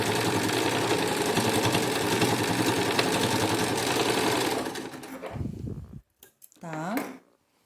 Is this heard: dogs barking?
no